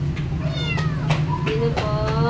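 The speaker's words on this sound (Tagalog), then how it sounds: "Sino nagamimiyaw dyan?" A house cat gives several drawn-out meows in a row, some rising and some falling, close by and clear over a steady low background hum.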